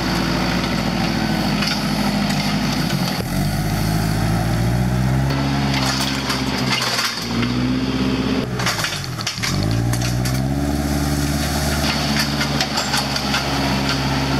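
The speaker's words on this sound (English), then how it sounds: "I'll run the tractor back and forth on the gravel that I put in the hole, compact it" A tractor rolls back and forth over fresh gravel on a rural road, its engine droning steadily and close, with the pitch dipping and rising as it slows and reverses several times.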